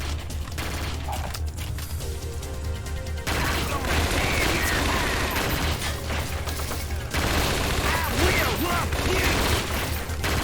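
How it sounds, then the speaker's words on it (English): Gunfire from the Scarface: The World Is Yours video game, a dense, steady clatter of shots running throughout amid mechanical game noise, with a brief quieter stretch early on before the firing swells again. "That gun almost sounded real."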